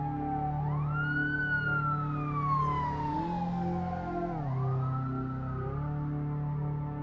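An ambulance siren wails nearby, its pitch sweeping slowly up and down over steady low traffic rumble.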